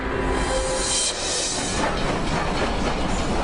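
Train wheels roll over rails in a continuous, fairly loud rushing rumble with faint clatter and hiss throughout, and no one speaks.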